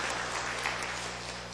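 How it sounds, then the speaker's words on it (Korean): Church congregation at a Sunday afternoon evangelism service claps together, a steady, continuous wash of applause of even loudness over a low hum. "박수 치고 20명."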